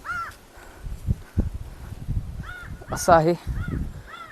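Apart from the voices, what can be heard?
crow cawing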